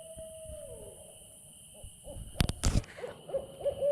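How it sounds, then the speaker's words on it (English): An owl hoots softly in night woods, a few faint low calls among quiet rustling, with sharp knocks and handling noises close by. "Here this owl is, this owl."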